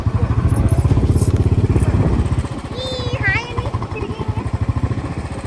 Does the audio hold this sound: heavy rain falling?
no